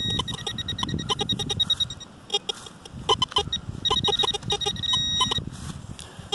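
Choppy, repeated electronic beeps from a metal detecting pinpointer over a buried copper target, alongside the warbling tones of the detector and scraping of soil outdoors.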